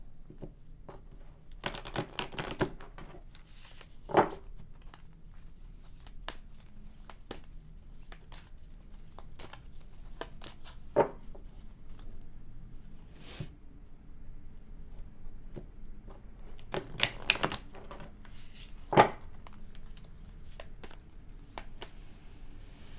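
Quiet riffling and soft slapping of a deck of cards being shuffled, with a few sharper snaps spaced out over a long, otherwise hushed stretch.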